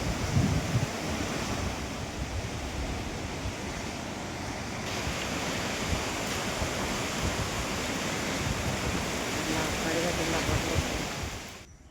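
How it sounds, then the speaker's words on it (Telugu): Strong storm wind with lightning roars in a constant, dense rush that buffets the microphone, loud and unbroken until it fades at the very end. "అసలు విపరీతమైన గాలి, మెరుపులండి."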